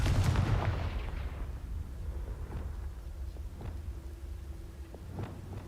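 A Confringo spell goes off in Hogwarts Legacy as a booming fiery blast that rolls and fades over a few seconds, followed by faint scattered crackles and thuds.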